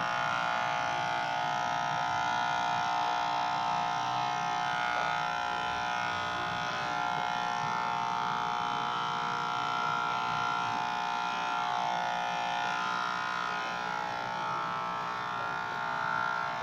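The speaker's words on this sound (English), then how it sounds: "shaving the hair" Electric hair clippers shave a head, giving a steady, close, unbroken buzzing hum that holds for the whole stretch with no talking.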